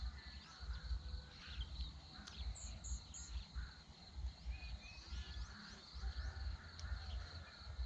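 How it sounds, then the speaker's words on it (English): Crows caw intermittently in the early morning outdoors, fairly distant and faint over a steady low rumble and a thin insect-like hiss. "The crows are out in force."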